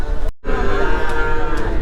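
A cow moos loudly and steadily at a crowded cattle market, one long sustained call that resumes right after a brief cut.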